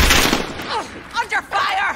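Gunfire from an MA4 rifle in the Call of Duty Modern Warfare video game, a burst of loud shots at the start followed by fainter scattered shots and game noise through the rest.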